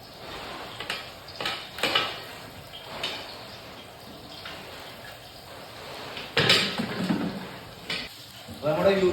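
Ginger and garlic dropped into hot oil, with a soft sizzle and scattered clinks of a utensil against the pan. Two louder bursts of frying come near the end.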